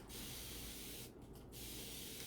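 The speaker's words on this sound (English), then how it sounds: "I just spray plain water on it." A spray bottle of plain water hisses close by in two bursts of fine mist, separated by a brief pause.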